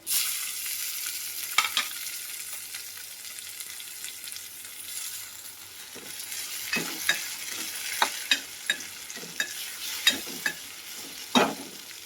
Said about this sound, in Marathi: लसूण असं मस्तपैकी फ्राय करायचा